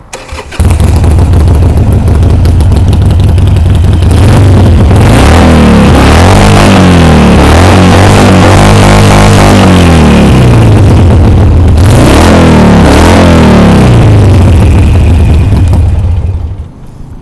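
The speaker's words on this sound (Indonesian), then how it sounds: "Mari kita dengar bunyi Harley Davidson Iron 883 punya bunyi macam mana." A 2013 Harley-Davidson Sportster Iron 883 motorcycle starts up and revs, loud and close, with a deep rumbling idle broken by several rising and falling throttle blips before it cuts off at the end.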